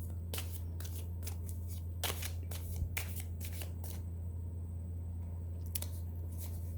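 Tarot cards shuffled by hand in a series of quick riffling bursts and soft slaps, close and fairly quiet, with a steady low hum underneath and no talking.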